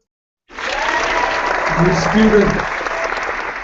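Applause in a classroom tutorial setting, a steady broad clatter of clapping starting abruptly and continuing throughout, with a voice speaking briefly over it.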